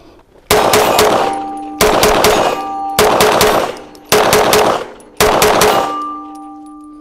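Firearm shots on the Sarsılmaz factory test range: five loud, evenly spaced blasts, each followed by a ringing, reverberant tail with a metallic clang. There is no talking.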